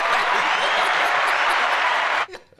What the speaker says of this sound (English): I need applause then,